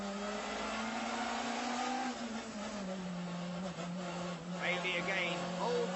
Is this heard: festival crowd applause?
no